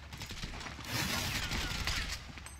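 Rapid bursts of gunfire from the video game GTA V, a dense crackling fusillade that stays fairly loud and continuous, with no talk over it.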